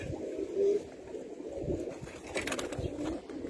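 A male platinum tumbler pigeon coos in soft, low, rolling phrases, repeated several times over a faint background hiss.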